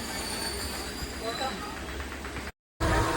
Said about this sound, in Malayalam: നമ്മുടെ ട്രെയിൻ കണ്ണൂർ റെയിൽവേ സ്റ്റേഷനിൽ എടുത്ത് തുടങ്ങിയിട്ടാണ്.